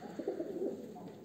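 Soft, low pigeon cooing murmurs continuously at a moderate distance, with a faint background hum.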